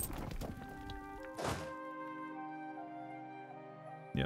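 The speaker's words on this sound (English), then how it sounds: "I'm just going to barrage those walls" Europa Universalis IV makes a deep, heavy thump for the artillery barrage on fortress walls, with another soft impact after it and a sustained musical chime ringing out, all close and clear with no talk.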